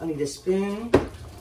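A kitchen drawer slides and bangs shut with a clatter of utensils, heard under a person speaking nearby.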